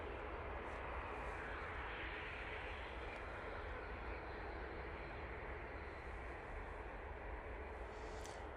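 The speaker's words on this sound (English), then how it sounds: "The KLM E2 returning back to Amsterdam Schiphol now." KLM Embraer E2 airliner at Manchester Airport, a steady broadband jet roar held at an even level throughout, moderately distant with no talk.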